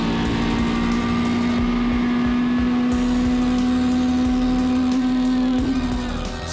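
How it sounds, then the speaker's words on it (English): A four-litre billet four-cylinder race car engine screams down the main straight from onboard, a loud sustained high-revving drone holding steady pitch throughout, with no talk. "have a little bit of a listen to 4 litres of billet 4-cylinder down the main straight here"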